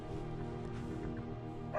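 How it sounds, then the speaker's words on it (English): A war dog in the video game Skyrim barks and yips in short, close bursts over a steady droning game soundscape. "A war dog is good company and good protection."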